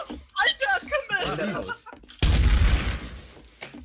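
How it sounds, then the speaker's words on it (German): A single loud pump-shotgun blast from the video game Trouble in Terrorist Town cuts in sharply midway, just after someone speaking and laughing, and fades under continued talk. "Da war schon wieder ein Pumpgun-Schuss."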